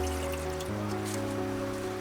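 Water pours into a pot on a gas stove, a close, steady trickle and splash that deepens as the pot fills, with no talk.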